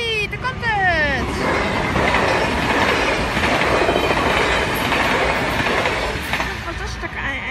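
A train, likely a goods train, rolls past close by at Linne, loud and sustained with rumbling wheels, clickety-clack over rail joints and a brief squeal at the start.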